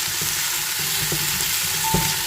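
Chopped tomato hitting hot oil in a pan, a steady broadband sizzle throughout with a few soft clinks of a utensil, close and fairly loud with no voices.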